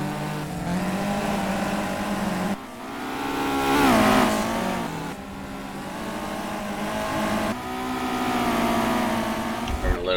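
Race cars in a heat race at Bloomington Speedway, engines droning and rising and falling in pitch as they pass, loud and continuous with someone talking over them.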